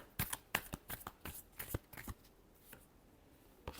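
Tarot cards being shuffled by hand in quick, crisp bursts of riffling and slapping, about a dozen separate strokes close up that thin out toward the end, with a quiet room behind them.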